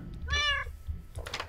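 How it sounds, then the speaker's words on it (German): A big monster cat in the video game Running Red 2 lets out one clear, drawn-out meow, close and prominent, followed by brief rustling noise. "Da ist die große Katze."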